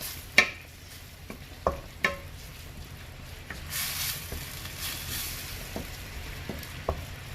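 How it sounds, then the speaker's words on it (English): Spicy sardine varuval fries in a pan over a medium flame, with a low steady sizzle and a few sharp spoon scrapes and clinks as it is stirred. "Okay, let it cook a bit more."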